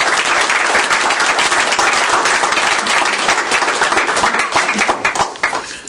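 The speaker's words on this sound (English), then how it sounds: "Give them a round of applause." Dense, steady applause from an audience at a college signing day honoring Mississippi College signees, loud and continuous for several seconds before tapering off near the end.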